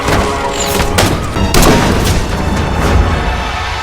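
Loud, dense battle-scene gunfire from an epic historical film in which Japanese troops catch up with villagers, with heavy booms and crashing shots overlapping continuously for several seconds.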